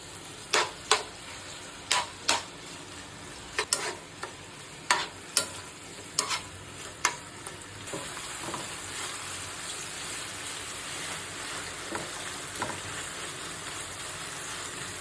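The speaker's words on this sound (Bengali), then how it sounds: "তেলের ভিতরে এটা ভাজবো" Seasoned chicken pieces frying in hot oil for noodles, a steady crackling sizzle punctuated by a series of sharp clacks from a spatula stirring in the pan, close and fairly quiet.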